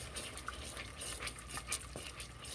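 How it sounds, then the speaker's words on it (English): Teriyaki sauce with crushed red pepper flakes being stirred in a pan, giving a soft, steady scraping and sloshing with faint clinks of the utensil against the cookware, alone and at close range. "I'm going to stir this up."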